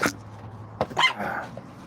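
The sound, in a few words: dog's high-pitched bark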